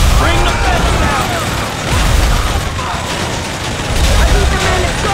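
Gunfire aimed at a fence in GTA V, dense rattling shots and mechanical clatter in loud waves, mixed with voices talking.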